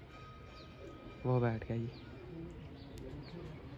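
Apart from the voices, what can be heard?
pigeons cooing on a net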